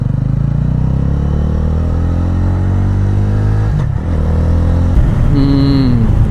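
A TVS Ronin motorcycle ridden through town, its engine loud and close, droning as it pulls and climbs in pitch, then a brief dip like a gear change before it picks up again.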